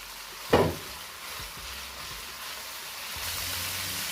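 Onions with green chillies and a little olive oil sizzle in a pan, opening with a brief clatter of stirring and then a steady, soft frying hiss that swells slightly toward the end.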